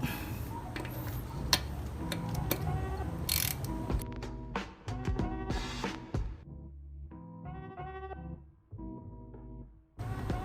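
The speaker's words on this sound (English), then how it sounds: "Now we're just gonna tighten it down, and we should be good." A ratchet tightens a bolt on the intake air control valve of a 2007 Kia Spectra, producing rapid metallic clicking in bursts with short pauses between strokes, close up and clear.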